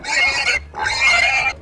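A pig makes two loud, rough, breathy squealing grunts, each about half a second long with a short gap between, heard up close.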